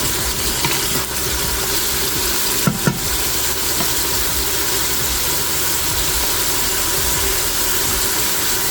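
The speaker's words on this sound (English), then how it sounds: "So the colored peppers saute a little bit faster than the green ones would." Colored bell peppers sauté in an Instant Pot while cabbage and sausage are cooked, giving a loud, continuous sizzle with a few stirring clinks near the middle, and no voices.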